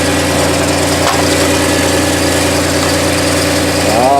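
A 2002 VW Passat engine idles steadily up close with a constant low drone, running on old gasoline, with a brief clunk near the first second and a rising mechanical whine at the end.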